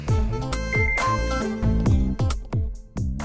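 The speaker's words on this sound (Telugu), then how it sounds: "ఈ టైంలో ఫోన్ ఎవర్రా?" A mobile phone ringtone plays a repeating melodic pattern at night, clear and fairly loud, with no talk over it.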